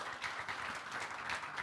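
A church congregation claps for Jesus at a Sunday evening service, a soft, distant, even patter of hands with no talk over it.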